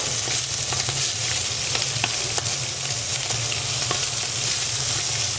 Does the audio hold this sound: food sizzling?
yes